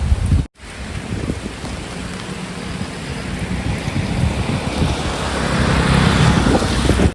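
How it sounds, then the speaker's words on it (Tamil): Heavy storm rain pours down steadily as a loud, dense wash, with a brief dropout near the start and low rumbling underneath that builds slightly toward the end. "ஃபுல்லாகவே மழைங்க"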